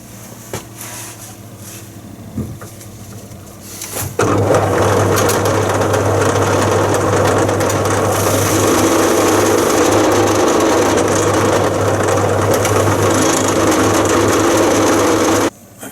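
A grey polishing mop buffs the handle of a bushcraft knife, an Enzo Necker 70 Scandi grind, taking out scratches. A few seconds of quiet give way to a loud, steady whirring grind that holds evenly to the end.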